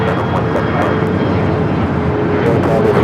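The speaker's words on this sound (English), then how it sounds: "Old America West A320." An old America West Airbus A320 airliner at LAX gives off a steady, loud engine roar with a faint tonal whine, continuous and close throughout with no voices.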